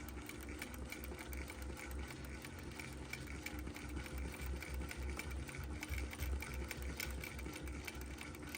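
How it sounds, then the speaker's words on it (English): A longarm sewing machine stitches at an even pace, a steady rhythmic mechanical purr with fast repeating pulses and no voices. "And I love to hear the sewing machine purr."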